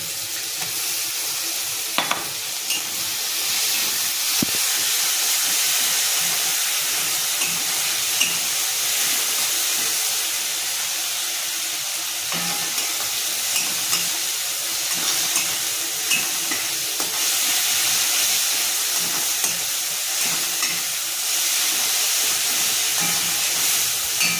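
Ground ginger, garlic and onion paste stirred into a pan of fried prawns, giving a loud, continuous hissing sizzle with steam and occasional scraping of the spoon, close up and without talk.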